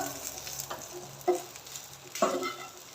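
Okra masala stirred in a pan, a soft sizzle under scraping spoon strokes, with two louder clanks of the spoon against the metal.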